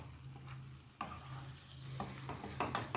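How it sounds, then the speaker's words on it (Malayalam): Mutton and onions frying dry in a pan without water or extra masala, stirred by hand, a soft steady sizzle broken by a few distinct scraping and clattering stir strokes, close but quiet. "നല്ലപോലെ ഇളക്കി യോജിപ്പിക്കുക"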